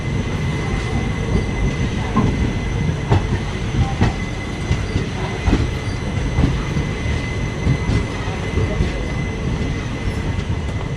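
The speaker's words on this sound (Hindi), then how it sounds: "ट्रेन थोड़ी सी डिले के साथ सोलापुर रेलवे स्टेशन पहुंच रही है।" Karnataka Express rolling into Solapur railway station after a delay, wheels clattering steadily over rail joints with periodic clicks and a faint squeal, loud and close throughout with no talk.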